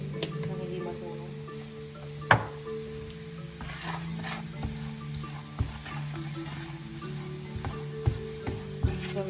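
Garlic shrimp sizzling and frying in a pan with a steady, quiet crackle, punctuated by a few sharp clinks and scrapes of a utensil stirring against the pan.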